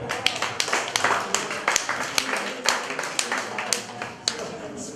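Applause for a woman track athlete at a tribute gathering, a brief round of close, brisk hand clapping with sharp individual claps, a voice speaking over it.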